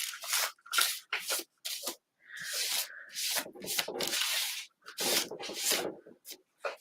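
A chalk brush is pushed repeatedly across decoupage paper to smooth it onto a surface, giving a string of close, dry scratchy strokes in an uneven rhythm, some short and some drawn out, with no talking.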